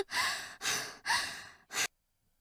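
A visual novel character near-drowned gasps for air in four heavy, breathy bursts, three long and one shorter, before falling silent.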